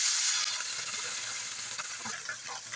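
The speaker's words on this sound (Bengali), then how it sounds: "আমি কিছুটা সর্ষের তেল দিয়ে দেবো মাছগুলো ভাজার জন্য" Fish frying in hot mustard oil in a kadai, a steady loud sizzle with crackling bursts throughout, no voices.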